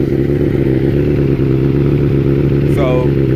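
A 2003 motorcycle fitted with a Big Gun Evo R slip-on exhaust idles loudly and close, a steady low throbbing engine drone with a brief rising rev near the end.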